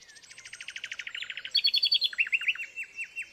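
A nightingale singing from dense thorny scrub at Knepp in late spring, a close, clear run of rapid repeated chirps shifting into louder trilled phrases and then slower, spaced whistled notes.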